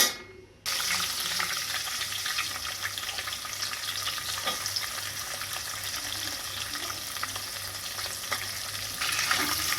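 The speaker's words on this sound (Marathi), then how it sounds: "तेलात टाकून घेणार आहे मी कांदा ह्याच्यात घेतलाय मी खडा मसाला टाकून आणि आता टाकणार आहे कांदा" Onions frying in hot oil with whole spices for chicken biryani, a dense steady sizzle that rises sharply after a short quiet start and carries on close and continuous, with no talking.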